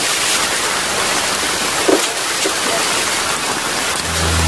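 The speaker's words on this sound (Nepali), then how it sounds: "ओहो पानी पर्यो" Steady rain pours down during monsoon flooding, a dense continuous hiss close by, with a faint brief knock partway through and a low hum rising at the end.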